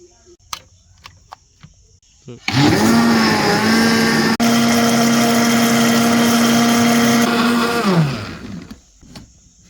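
An electric blender switches on and runs loud and steady for about five seconds with a whining motor hum, then winds down, with faint clatter and brief voices before and after.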